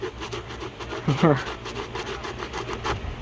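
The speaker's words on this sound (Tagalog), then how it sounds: "pagka nilihan, ayun o, tingnan nyo, niliha ko nga lang" Rhythmic rasping strokes of sandpaper rubbing a shoe, repeated steadily and close, with a brief voiced sound partway through.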